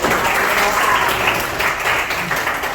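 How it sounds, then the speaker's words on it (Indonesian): Children in a sixth-grade classroom clap together, a brisk, fairly loud burst of applause lasting a few seconds with faint voices underneath. "Tepuk tangan buat Jus."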